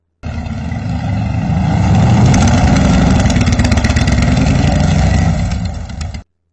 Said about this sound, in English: Randy, her leather jacket wearing date, arrived on his Harley Davidson motorcycle right on time.